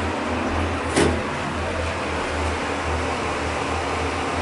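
A public library elevator rides up to the second floor with a steady low mechanical hum and drone, a single clunk near the start, heard close and continuous with no talk.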